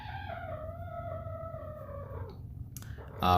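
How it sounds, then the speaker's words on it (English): A drawn-out wavering call from a silkie rooster, a strained croon sliding downward over about two seconds, followed by a brief rustle and a louder burst at the end. "We have Stormy making that little noise in the corner, our silky rooster"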